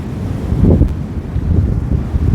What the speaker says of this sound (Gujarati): તમને બતાડું ઉછાળા કેમ મારે છે